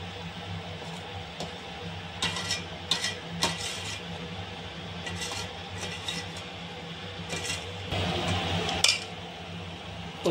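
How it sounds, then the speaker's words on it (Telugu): A spoon stirs ground gongura into masala for fish curry in a pan, with intermittent scraping strokes and clinks over a low steady kitchen hum. "ఈ మసాలాలో బాగా కలుపుకోవాలి ఫ్రెండ్స్ ఈ గోంగూరని"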